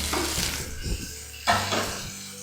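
Tomatoes tipped into a pan of small onions frying for goat leg soup, giving a soft sizzle with a few clattering stirs and scrapes of a utensil against the pan.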